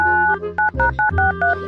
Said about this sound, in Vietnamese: rút điện thoại ra gọi